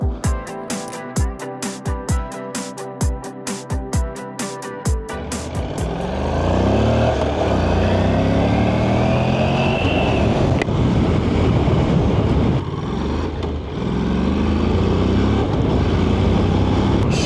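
Engine revs in sharp bursts, then a steady roaring engine with wind rushing over the microphone, loud and continuous as if riding.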